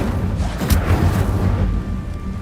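An Incendio fire spell goes off in Hogwarts Legacy, a loud, close whooshing burst with a deep rumbling boom that sustains for a couple of seconds before easing slightly.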